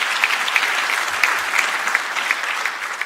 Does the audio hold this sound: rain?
no